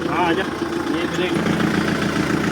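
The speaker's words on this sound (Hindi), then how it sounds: "तो भाई अभी हम लोग ट्रैक्टर बैठ चुके हैं और हमारे ऋषभ भाई जो है ड्राइव कर रहे हैं।" A tractor engine runs with a steady low rumbling chug during a village ride, heard under a man's speech.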